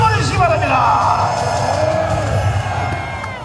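A large outdoor crowd at a Gwanghwamun rally against President Yoon's impeachment roars and cheers for a pastor, a sustained loud wave of shouting and whooping that slowly fades, with an amplified voice over it.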